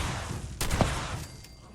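Two Shot Explosive Combat Shotgun firing in Fallout 76, a single sharp blast with a short rumbling tail over steady game background noise, fairly close and loud.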